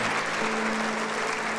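A church congregation applauds during a worship service, a dense wash of clapping under a sustained low musical hum.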